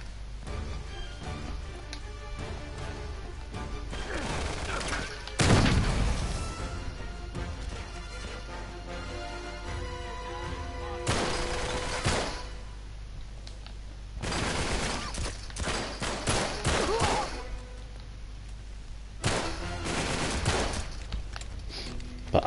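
Gunfire in the video game Uncharted 3 comes in loud, repeated bursts of rapid shots and separate fusillades amid constant battle noise, with brief lulls between exchanges.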